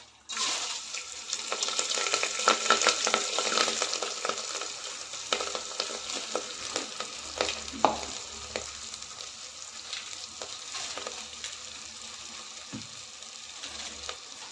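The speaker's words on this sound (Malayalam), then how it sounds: "ബേ ലീഫ് ഇടാം. കുറച്ച് പെരിഞ്ജീരകം ചേർക്കാം. ഇതിലേക്ക് റൈസ് ചേർക്കാം." Rice sizzles and fries in hot fat with bay leaf and fennel seeds for a prawn biryani, a steady crackling hiss broken by scraping stir strokes and light clinks, close and continuous with no talk.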